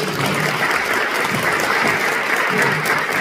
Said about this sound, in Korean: 박수를 한번 드리겠습니다.